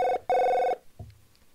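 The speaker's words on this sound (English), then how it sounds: "Answer the phone" A telephone rings in two bright electronic bursts, a short one and then a longer one, followed by a faint low thump, with no talking.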